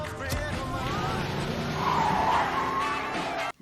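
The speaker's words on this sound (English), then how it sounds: "Soviet agents engaging in a muscle car race" Muscle cars racing in a 1957-set film scene, with a sharp tire skid and squeal rising over revving engines and rumble, brief and loud, ending abruptly.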